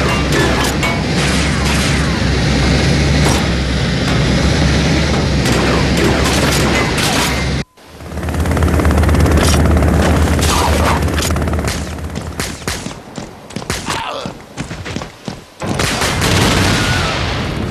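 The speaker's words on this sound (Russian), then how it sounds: "Сочные взрывы и забойный саундтрек также мало кого смогут оставить равнодушными." Dense, loud barrage of explosions and rapid gunfire from a remade video game, booms and crashes piling up with a brief cut to silence midway.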